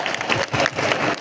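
A crowd gathered for a cheerful Royal Challengers Bangalore cricket fan event claps loudly and densely for a brief moment, the applause filling the space up close.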